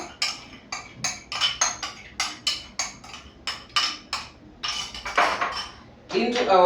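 A utensil tossing dressing through a carrot and cucumber salad in a bowl, making a quick run of sharp, close clinks and scrapes against the dish, ending in a busier clatter.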